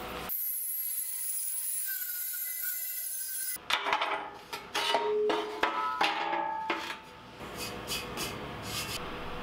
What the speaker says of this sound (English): Now I'm going to do a second pass with a flap disc to kind of smooth things out.